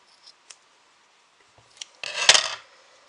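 A few small clicks and snips, then a louder crisp scissor cut slicing through material, close and quiet otherwise.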